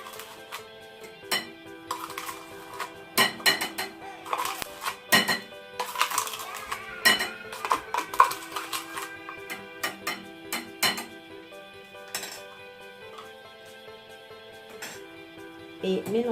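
A utensil scrapes and clinks against a bowl while leftover sugar is scooped from the bottom for an apple cake batter, a run of irregular light taps and scrapes, fairly close and soft.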